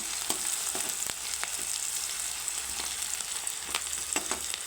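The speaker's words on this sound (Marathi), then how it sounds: "कांदा आणि हिरव्या मिरच्या तेलामध्ये छान अशा होते आहे मस्त" Sliced onion and green chillies fry in oil, giving a steady close sizzle with scattered sharp crackles and pops throughout, no voices.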